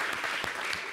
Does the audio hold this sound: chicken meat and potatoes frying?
no